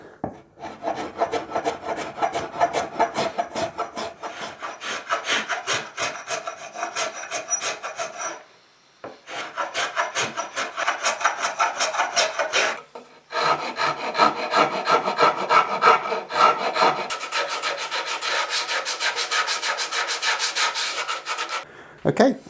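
A spokeshave shaves wood on a Rickenbacker 620/12 guitar build, giving repeated rasping strokes in steady rhythm, close and clear, with brief pauses between runs of strokes.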